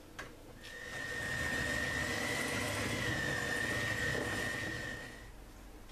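A hand-held electric mixer beats Nutella brownie batter at low speed, a steady whirring motor hum that holds evenly for about five seconds before cutting off, with no talking.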